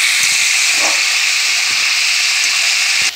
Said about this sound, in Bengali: তেলে নাড়তে নাড়তে আমটা নরম হয়ে যায়।